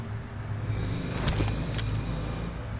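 A car approaching in PUBG Mobile, a steady engine rumble rising slightly in intensity, with a couple of brief clattering rattles in the middle, no speech.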